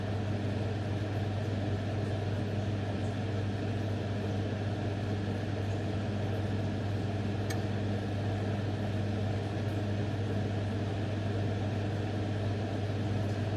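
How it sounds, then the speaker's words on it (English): Country ribs power boil in a pan, giving a loud, steady bubbling roar with a low hum that holds unbroken from start to finish. "Let them power boil for a while."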